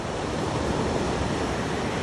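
Sea waves wash steadily along the Barcelona seaside, a continuous broadband roar of surf with faint wind noise, evenly loud for the whole stretch and with no voices.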